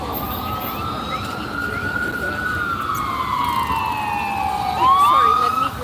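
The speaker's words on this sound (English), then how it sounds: "sirens are coming this way." Emergency vehicle sirens wailing on a New York City street outside a Manhattan courthouse, rising and falling steadily and loudly, with traffic rumble underneath and voices faintly in the background.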